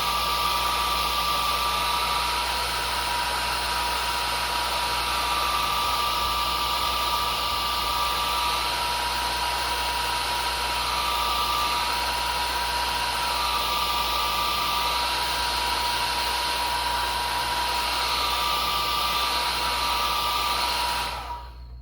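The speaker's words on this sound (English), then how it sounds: "There's the hair dryer again." A hair dryer drying a weathered model railroad tank car blows continuously at high speed, a loud, even whir and hiss that holds steady throughout before cutting off at the very end.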